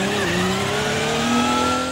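An Audi R18 e-tron quattro hybrid race car in Assetto Corsa on the Nordschleife, its engine droning steadily with rising and falling whine and a touch of tyre squeal, loud and close.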